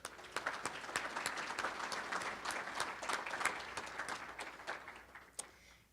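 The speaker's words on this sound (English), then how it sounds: "So give yourselves a round of applause." Keynote audience at the M+DEV 2017 game developer conference applauding, steady dense clapping from a large crowd that thins out toward the end, with one sharp clap near the close.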